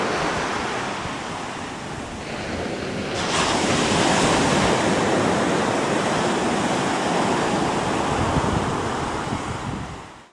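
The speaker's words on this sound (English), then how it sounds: "He likes the sound of the water." Ocean waves and surf roll in, loud and continuous, building into a heavier rush a few seconds in, with gusting wind buffeting the microphone and no talking.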